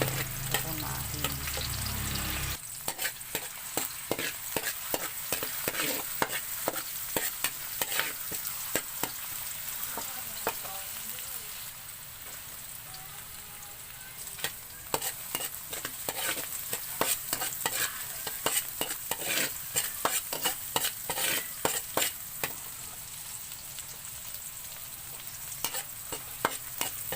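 Onion sautéing for pork caldereta in a pan: steady close sizzle of frying with repeated sharp scrapes and clacks of a stirring utensil throughout, starting right after a brief louder opening burst.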